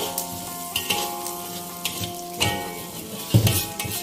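Ginger, shallot, chili, turmeric and garlic sizzle in hot oil while being stirred, with a steady frying hiss broken by scraping and clinking of the utensil against the pan at irregular intervals.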